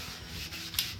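Brush bristles rub across a vinyl record turning on a Vinyl Vac cleaning turntable, a soft continuous close scrubbing with one brief sharper scrape near the end.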